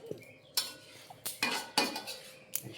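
A utensil scrapes and clinks against a pan while food is stirred with sweet soy sauce and spices, in sharp irregular bursts of metallic scraping at close range, with no talk.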